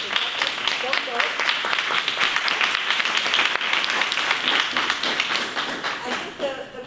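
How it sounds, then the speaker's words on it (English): An audience at a conference side event in Seville claps for the speakers, a sustained dense patter of many hands, close and steady, then tapering off at the end. "I want to really give a round of applause to our speakers."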